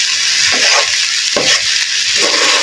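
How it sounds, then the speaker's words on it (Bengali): Rice frying in beef fat in a pan while being stirred, a loud close-up sizzle broken by repeated scraping strokes across the pan bottom. "আপনারা দেখতে পাচ্ছেন তেলের মধ্যে চালটা ভাজা হচ্ছে"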